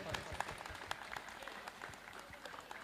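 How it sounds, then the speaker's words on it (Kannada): Applause from an audience at a prize distribution event, a steady, dense clapping that stays even throughout and sounds fairly distant and soft. "ಪ್ಲೀಸ್ ಬಿಗ್ ಹ್ಯಾಂಡ್, ಜೋರಾದ ಚಪ್ಪಾಳೆ."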